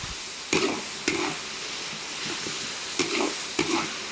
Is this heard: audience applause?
no